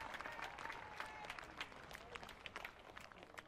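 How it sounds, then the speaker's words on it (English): Crowd applause at a rugby stadium after the National 20s 2023 final, South Island versus Counties Manukau, honoring the referees; steady dense clapping from a distant crowd with scattered louder claps, continuous throughout. "Can we have a round of applause for our referees?"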